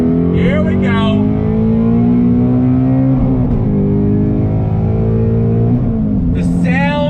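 A 2019 Ford Shelby GT350 with its V8 accelerating hard in second gear, the engine note rising steadily in a loud, dense roar that dips briefly at a shift-like break and then climbs again, heard from inside the car.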